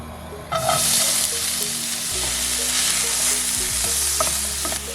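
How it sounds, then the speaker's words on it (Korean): Loud continuous sizzling of onions and garlic frying in a hot pan, with occasional stirring scrapes. "양파과 마늘 먼저 조금 튀겨야"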